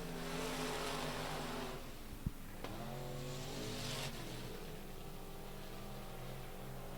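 Race cars thunder around the oval at Rocket Raceway Park during the KR Cup, several engines roaring loud and steady together, their pitch rising and falling as the cars run side by side for the lead.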